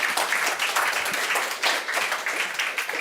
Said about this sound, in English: It's your applause.